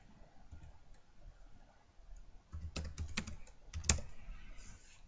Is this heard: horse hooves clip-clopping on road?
no